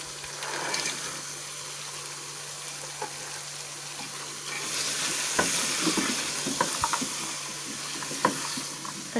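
Peas and mixed vegetables stirring in a frying pan make a continuous close sizzle with wet, scraping spoon strokes and soft clatters, busier in the second half.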